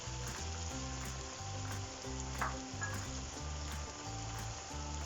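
Yogurt hits a pan of frying masala for an anda chana pulao, giving a faint, steady sizzle with soft stirring under a low, rhythmic background beat.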